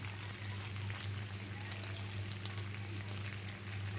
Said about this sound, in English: I'm going to add 5 tablespoons of brown sugar, and some soy sauce.